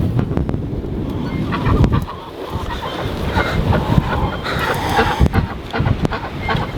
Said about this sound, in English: My duck and chicken seem a little confused.